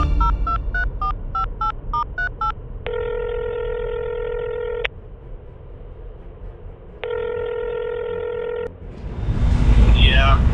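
Phone call on a cell phone: a quick run of keypad dialing beeps, then two long steady electronic ringback tones separated by a pause, fairly loud, followed by a rising burst of louder noise at the end.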